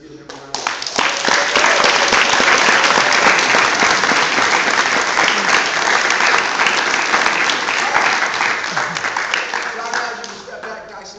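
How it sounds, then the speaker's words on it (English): Audience at a kung fu academy black belt recognition ceremony gives a long, loud round of applause, building quickly, holding dense and full for several seconds, then tapering off, with some voices and cheers mixed in. "So let's give them a round of applause."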